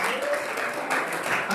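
A church congregation applauds in a brief, steady wash of clapping that fills the room at moderate volume, with no single claps standing out.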